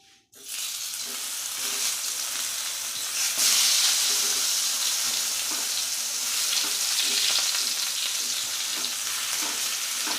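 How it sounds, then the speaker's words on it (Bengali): Long eggplants coated with salt and turmeric are fried with their stems on in hot oil, giving a loud, steady sizzle that starts suddenly and keeps going without break, with faint stirring underneath and no talk. "বেগুনগুলো ভেজে নেব বোঁটা সমেত।"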